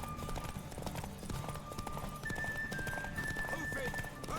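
Hooves of a horse clip-clop steadily in The Witcher 3: Wild Hunt, running under dense game music, with a brief whinny-like cue and a voice talking over the action.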